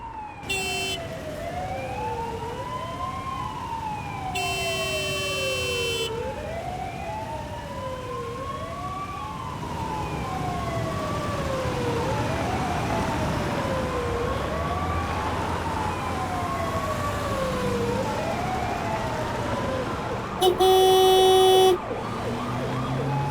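Ambulance siren wailing in traffic, a loud rising-and-falling tone repeating steadily near the listener, with bursts of horn honking and a steady traffic rumble underneath.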